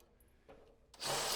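Self-tapping L02 screw driven into the lip of an aluminum housing on a stainless steel rolling bench: quiet handling and a faint scrape, then a loud, close power driver whirring to the end.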